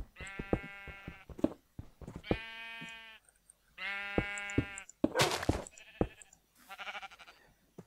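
Sheep in Minecraft give several drawn-out bleats in succession, clear and close, with brief game noises between calls and someone speaking quietly.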